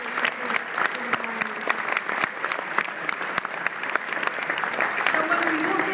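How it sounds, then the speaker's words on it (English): Lively applause rises from the crowd at an awards dinner, many hands clapping with crisp individual claps audible, continuing steadily and building slightly toward the end. "I think we owe our governor a round of applause and our General Assembly"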